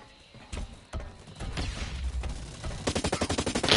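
Automatic turret fire in the shooter game Blacklight on PS4, scattered single shots building into a rapid, loud burst of rhythmic gunfire near the end.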